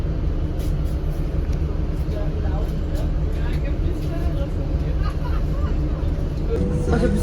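Inside a city bus in Thailand, a low engine and road rumble runs steadily while passengers chatter nearby and a brief clatter comes near the end.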